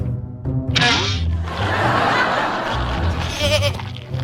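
A goat bleats loudly and close up several times in a vegetable garden, with wavering, nasal calls overlapping in a noisy outdoor scene.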